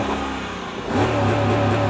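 A 2002 Mercedes ML55 AMG engine revs up sharply about halfway through, a deep throaty roar rising over a steady rumble, loud and close.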